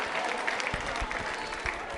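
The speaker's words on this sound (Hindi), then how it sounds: "पूर्वा के लिए तालियां जोरों से बजाइए पूर्वा के लिए" A school audience claps for a student contestant at a quiz show, a steady broadband patter of many hands filling the whole stretch at moderate loudness, with faint voices underneath.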